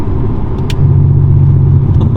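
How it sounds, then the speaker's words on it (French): A Porsche 911 race car with a fully open exhaust roars loudly and close, a dense steady low engine drone that swells slightly partway through, no voices. "Là du coup là les amis on est en échappement libre total"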